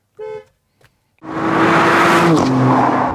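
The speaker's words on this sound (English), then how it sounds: "here's a check of the horn" Horn of a 2015 Audi A4 Avant B9: a short single toot, a faint click, then a sustained loud honk held for about two seconds with a slight pitch shift near the end.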